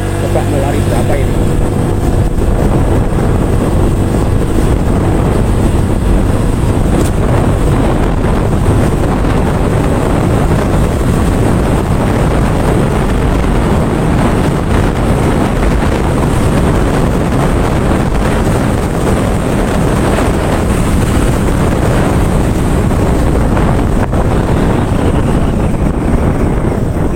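Constant roaring wind buffeting the microphone while riding a Honda PCX 150 scooter, loud and steady throughout, with a faint engine drone underneath.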